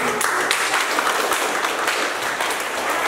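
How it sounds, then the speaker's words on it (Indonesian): Classroom applause, a class clapping hands together in a dense, steady burst for a few seconds. "tepuk tangan"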